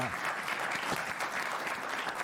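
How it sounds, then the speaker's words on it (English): A studio audience on a late-night talk show breaks into loud, dense applause, continuous clapping and some cheering filling the whole moment without pause. "I love it when they applaud my next question."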